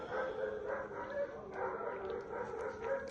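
A dog barks and yips repeatedly from somewhere in the back of a garden setting, moderately distant and fairly faint, in a steady run of short calls.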